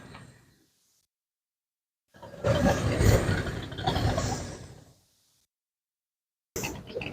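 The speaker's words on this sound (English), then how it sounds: "Stinger exhaust." Car fitted with a Stinger exhaust revving at an outdoor benefit car show, a loud rising burst of engine roar lasting a few seconds between quiet gaps, with another short rev starting at the end.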